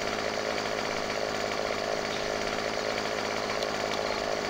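Steady, loud chainsaw drone from the video game Farming Simulator 2015 as a tree is cut, running unbroken throughout with a dense, raspy buzz and no voices.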